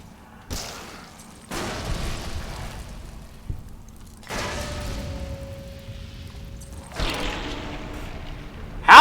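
Gas bomb explosions in Fallout New Vegas, several separate dull booms spaced a few seconds apart, each followed by a lingering rumble, with a louder blast at the very end.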